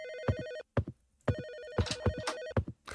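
A telephone ringtone plays in short repeated electronic bursts with brief gaps, a bright melodic ring that is fairly faint and close, with no talking over it.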